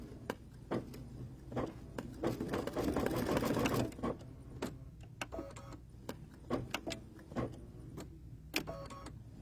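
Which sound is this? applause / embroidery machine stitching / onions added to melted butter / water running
embroidery machine stitching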